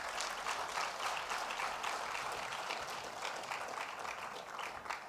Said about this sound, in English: Let's give Baba a big round of applause again.